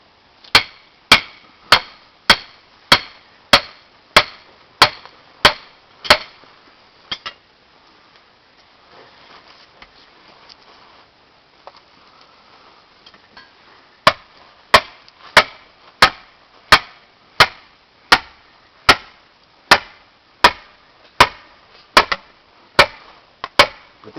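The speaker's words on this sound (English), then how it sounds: "Let's have that sledgehammer." A sledgehammer pounds a rotten wooden fence post set in concrete, with loud, evenly spaced close blows in a steady series, a pause of quieter scraping and rustling in the middle, then another long run of regular strikes.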